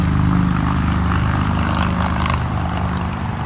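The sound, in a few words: loud motorcycle passing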